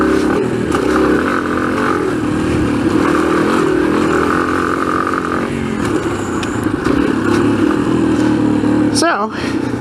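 Motorbike engine droning steadily while riding laps uphill, loud and close with wind noise, plus a short whistling squeal near the end.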